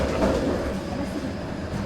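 An Antwerp tram climbs up out of its underground premetro tunnel, giving a steady low rumble and rolling wheel noise heard from inside the car, fairly loud and even, with no talking.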